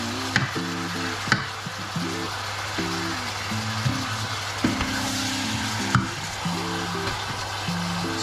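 Bulalo, a beef shank and bone-marrow soup, being stirred in a cooking pot, with steady loud sizzling and bubbling and a few sharp scrapes and knocks of the utensil against the pot, close up, no talking.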